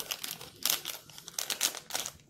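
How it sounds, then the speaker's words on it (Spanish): Scissors snip open a plastic candy packet of Panditas gummies, giving a few short crinkling cuts and rustles close to the microphone, quiet and with no talking. "nuestras amigas tijeras nos van a ayudar a cortar esto de aquí."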